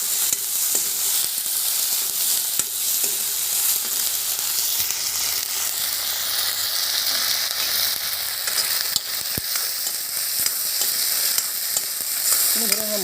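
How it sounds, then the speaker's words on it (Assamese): Ginger and garlic fry for a pork curry, sizzling steadily and loudly in hot oil with continuous crackle and hiss throughout, no voices. "আদা নহৰুখিনি দি দিম। এতিয়া এইখিনি অলপ ৰঙচুৱা কালাৰ হোৱালৈকে ভাজি ল'ম"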